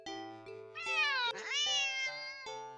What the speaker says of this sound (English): the cat meows sharply at you and dashes off around the corner